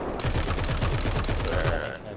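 Rapid machine-gun bursts from a P-400 aircraft strafing in the video game War Thunder, a dense, loud fusillade of rattling shots that runs steadily for about two seconds before cutting off.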